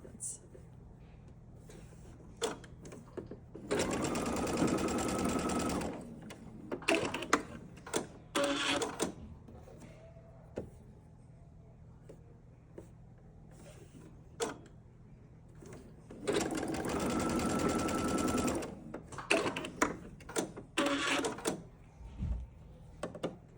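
A sewing machine stitches a quarter-inch seam on a small quilt block in two steady whirring runs of about two seconds each, separated by handling clicks and quiet talking.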